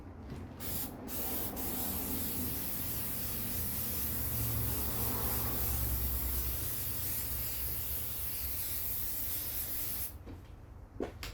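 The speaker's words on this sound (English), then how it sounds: "we've got this magic stage 2 headlamp coating" Meguiar's stage 2 headlamp restoration coating is sprayed onto a car headlight in one long, steady aerosol hiss lasting about ten seconds, close and continuous, ending with a few faint clicks.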